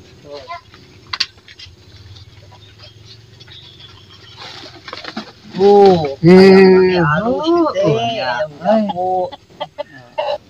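Chickens cluck and call in a loud burst of harmonic squawks, close by, after a quieter stretch of low background noise.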